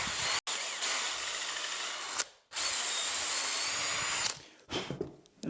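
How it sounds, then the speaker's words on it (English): A power drill pre-drills holes in clamped wood for a simple woodworking piece, whirring loudly and close in three long runs broken by brief pauses. "I'm going to pre-drill a couple of holes."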